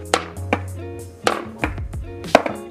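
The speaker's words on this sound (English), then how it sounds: "My board is like completely waterlogged for some reason or has no pop anymore." Waterlogged skateboard with no pop being snapped and knocked, giving a few dull, short wooden thuds and taps at close range, spaced irregularly, with no talking.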